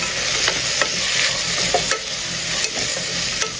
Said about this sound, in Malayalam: സവാളയും ഉള്ളിയൊക്കെ വഴന്ന് ഒരു ഗോൾഡൻ നിറാവണം, അതുവരെയും ഒന്ന് ഇളക്കി കൊടുക്കാം